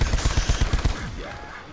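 A rapid run of heavy, punchy shots from a powerful weapon in Call of Duty Black Ops 4 Zombies, about a dozen booming blasts in quick rhythm, then a fading tail.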